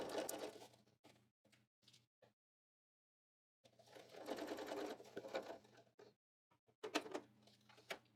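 A sewing machine stitches along the lower edge of a pocket in short bursts separated by pauses and a long silent gap, with quiet handling clicks between runs.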